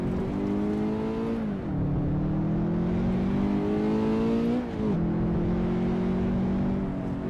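Engine of a car driven on a mountain touge road in Assetto Corsa, steady and close, holding a droning pitch that drops sharply at two gear shifts before climbing again, with no talking.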